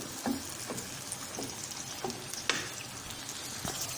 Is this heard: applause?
no